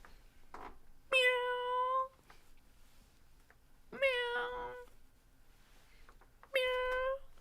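A cat meows three times, each cry drawn out and fairly clear, separated by short quiet gaps.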